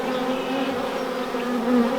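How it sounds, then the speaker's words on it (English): Honey bees buzz steadily around a horizontal hive outdoors on a cold winter day, a dense, continuous droning hum, close and fairly loud, with no voices. "I don't know if you can hear and see them buzzing all around"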